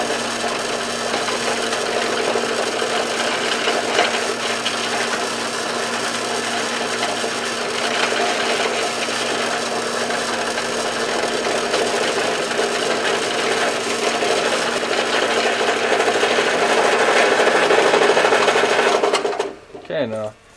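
A drill boring a series of holes in wood for a fingerboard, a steady buzzing grind running continuously and fairly close for most of the stretch before cutting off abruptly near the end.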